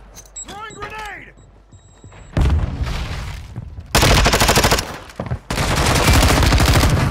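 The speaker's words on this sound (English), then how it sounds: "Throwing grenade!" Video game gunfire erupts in loud, dense bursts after a grenade throw, with a sustained boom-like blast and rapid automatic fire filling most of the clip, preceded by quieter game sounds and a rising tonal cue.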